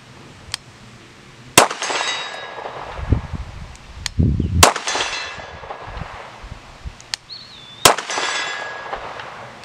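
Several sharp gunshots at shooting practice, a few seconds apart, some followed by a bright ringing clang like a struck steel target, with low rustling between shots and no talking.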